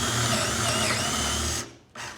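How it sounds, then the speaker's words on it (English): An electric drill with a 13mm chuck bores a hole: a steady, loud motor whine with a rough grinding texture that runs for about a second and a half, then stops abruptly and briefly restarts. "No problem for this to drill a hole."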